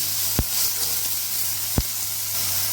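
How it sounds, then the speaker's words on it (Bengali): Chicken pieces coated with Kashmiri chili and chicken masala sizzle lightly in a pan, a steady close hiss with two sharp knocks. "দিয়ে এটাকে আমি একটু হালকা করে ফ্রাই করে নেব"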